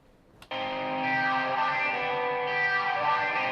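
A sustained, distorted guitar chord rings out in a big, roomy chamber reverb, swelling and lingering without decay for several seconds after a sharp attack.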